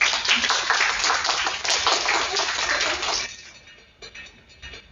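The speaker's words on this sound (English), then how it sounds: "Please give them a round of applause." A crowd at a high school class presentation event claps in a dense burst of applause for about three seconds, then it quickly thins and dies away.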